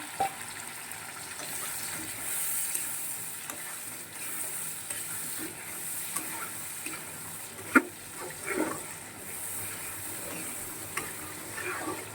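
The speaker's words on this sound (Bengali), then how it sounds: "চলো আর একটু জল দিয়ে দিলাম।" Water is poured into a pan of chicken curry cooking on the stove, a soft steady splash and sizzle under continuous frying hiss, with faint stirring clinks and no talk.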